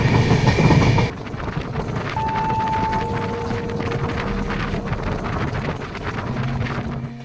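The 12987 Sealdah Ajmer Express runs along the track with a steady rumble and clatter of wheels and carriages, heard from inside with wind buffeting at first and faint tonal squeals drifting in and out.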